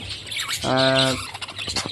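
A single harsh, buzzy squawk from a classic budgerigar rises briefly, surrounded by quieter budgerigar chattering and chirps.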